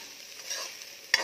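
Grated coconut roasting in a pan over medium-low heat, giving a soft, dry sizzle with light stirring scrapes and a sharper scrape near the end, with no talk.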